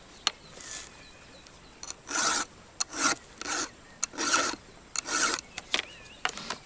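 A file rasps across a chainsaw chain to sharpen it, heard as a series of short scraping strokes in an uneven rhythm with brief pauses between them, close and fairly loud with no talking.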